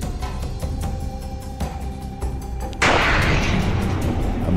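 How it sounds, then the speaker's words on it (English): Chelyabinsk meteor exploding in the atmosphere some 23 km up shortly after sunrise: a steady low rumble breaks into a sudden loud, broadband roaring boom that keeps rolling on without fading. "A massive explosion equivalent to 440 kilotons of TNT."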